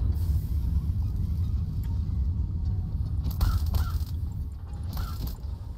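Birds caw in the Satisfactory video game, a few short calls heard faintly over a steady low mechanical rumble of the game world.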